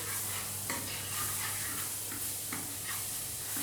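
Garlic frying in hot oil in a pan, a steady close sizzle broken by soft scraping stirs at irregular intervals, with no talk.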